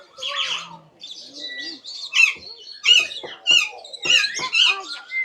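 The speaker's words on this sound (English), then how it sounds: "Parakeets and parrots." Parakeets and parrots at a wildlife park give a busy run of squeaks, chirps and harsh squawks, close and fairly loud, with bursts coming in quick succession.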